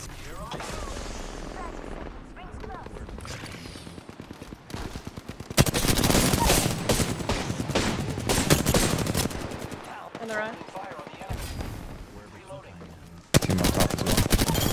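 Rapid bursts of gunfire from a video game, including machine-gun volleys with sharp loud onsets and short pauses, repeat throughout while a player talks over the action.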